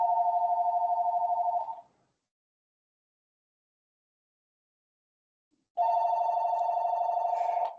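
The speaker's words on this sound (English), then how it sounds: "pardon the ringing telephone. I assume it will stop in a minute." An old-style telephone bell rings in two bursts, each a steady rapid trill lasting about two seconds, separated by several seconds of silence, heard clearly with no voices.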